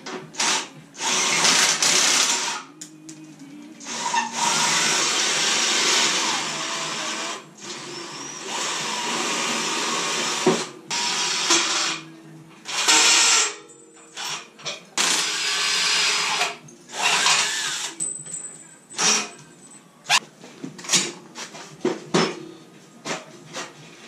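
Bolts being loosened and removed with a 9/16 ratchet and wrench while rebuilding an old boat trailer, giving repeated bursts of clicking and metallic working noise that stop and start through the clip, close and fairly loud.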